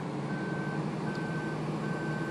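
A Ford truck in Farming Simulator 2013 sounds its reversing alarm: three evenly spaced, steady electronic beeps over a constant engine drone, with no talk.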